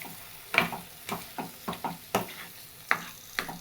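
Grated carrots for carrot halwa are stirred and sautéed in a pan, a series of soft scraping strokes at an irregular rhythm over a faint sizzle, close and quiet.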